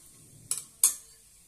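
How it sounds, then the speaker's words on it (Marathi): Cumin seeds and a bay leaf stirred in hot oil in a pan: two quick metallic spoon clinks against the pan over a faint low sizzle, with no voices. "1 चमच जिरे आणि तेजपत्ता, हे सर्व आपण यामध्ये घालून घेऊया।"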